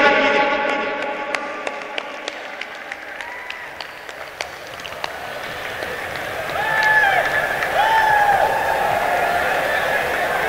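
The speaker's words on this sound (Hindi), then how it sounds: "तालियों की गूंज में स्वागत कीजिए" A crowd at an Ameer Khusro Mahotsav mushaira applauds as a minister presses a switch to unveil a project. Sustained, moderately distant clapping with a few sharp louder claps, joined later by warbling electronic tones.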